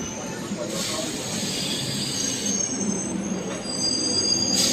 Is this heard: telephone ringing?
no